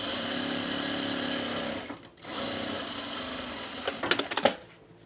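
A sewing machine stitches darts in fabric, a continuous close mechanical whir that pauses briefly, resumes, then ends with a few clicks and knocks.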